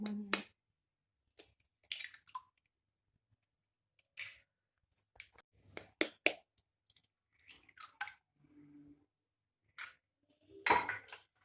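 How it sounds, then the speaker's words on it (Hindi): Eggs are cracked one by one into a bowl for egg halwa, giving sparse, sharp taps and clinks of shell on the bowl rim, separated by quiet gaps, close and fairly soft. "अब हमने 5 अदद जो अंडे लिए थे वो सारे एक एक करके इस बोल में तोड़ के शामिल करेंगे"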